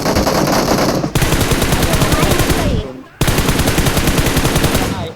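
Rapid automatic gunfire from PUBG Mobile rattles loudly in dense sustained bursts, breaking off briefly twice before resuming at full intensity.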